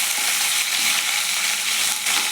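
Curry leaves and green chillies fry in hot oil for a poori curry, giving a steady, close, loud sizzle that fills the whole moment without a break and with no voices.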